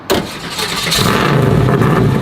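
A big block Ford Mustang, prone to overheating, cranks over and catches, then settles into a loud, rumbling idle close by, with no voices present.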